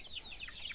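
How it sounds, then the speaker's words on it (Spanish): A hen on a rural Cuban farm clucks in a few quick, faint chirping notes, heard briefly and at a distance with no talking. "Mira aquella gallina que no había venido para acá"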